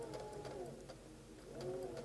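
A sewing machine stitches patchwork onto an anchor cloth in two short quick bursts of whirring needle motion, close and moderately quiet, with a pause between them.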